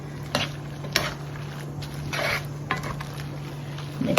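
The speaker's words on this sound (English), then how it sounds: "So now it's just a matter of tossing the pasta through the sauce." Linguine being tossed through a prawn, pistachio and pea sauce in a pan: soft wet squishing and stirring with occasional utensil clicks against the pan over a steady low hum, close and moderate.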